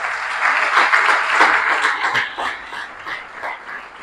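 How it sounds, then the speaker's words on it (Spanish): Applause for a woman at a church anniversary service, a sustained crowd clapping that swells early, stays loud and dense, then eases slightly toward the end. "le damos un fuerte aplauso a la mujer esta"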